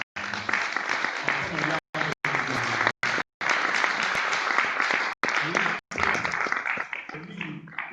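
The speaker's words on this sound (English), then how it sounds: "This brother deserves a round of applause." Audience at a community meeting applauds with sustained dense clapping that runs for several seconds and then thins out, broken by brief silent gaps.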